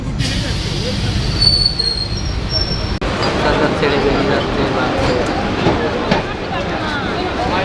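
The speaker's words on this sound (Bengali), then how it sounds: "শিয়ালদা থেকে ট্রেনটা ছাড়লে এখন পার্ক সার্ভিসে ঢুকছে" A Kolkata suburban local train from Sealdah runs toward Park Circus, close and loud, with a continuous rumble and high wheel squeals on the rails, plus a sharp jolt midway.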